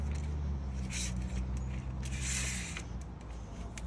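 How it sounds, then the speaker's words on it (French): Creaking, grinding metal as a screw is undone on an awning leg so the leg can be raised inside; a steady, close rustle with louder scraping bursts around one and two and a half seconds. "On dévisse ça pour remonter la patte à l'intérieur."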